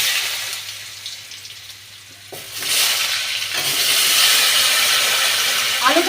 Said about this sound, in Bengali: সেই আলুটা এবার আমি এই তেলের মধ্যেই দিয়ে দেবো।